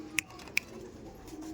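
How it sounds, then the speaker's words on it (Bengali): Pigeons kept in a loft, giving two short, sharp calls close together over a faint, low, steady murmur of cooing. "প্রচুর পায়রা আছে দাদা, প্রচুর পায়রা আছে"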